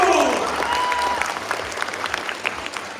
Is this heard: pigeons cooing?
no